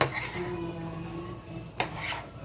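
Shrimp, ramen noodles and broccoli are stirred in a pan with a faint ongoing sizzle and soft scraping, plus one sharp clank of a utensil against the pan near the end, close and fairly quiet.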